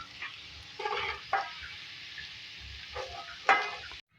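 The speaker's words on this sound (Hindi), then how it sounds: "इतना आपने फ्राई करना है इसको" Bitter gourd and minced meat frying in oil in a karahi, with a low continuous sizzle broken by several louder bursts of spattering and stirring, close by and fairly quiet.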